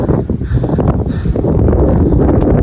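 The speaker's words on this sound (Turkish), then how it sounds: "Aşırı bir rüzgar da geliyor." Strong wind buffets the microphone in loud, continuous gusts, a heavy low rumble with no other sounds.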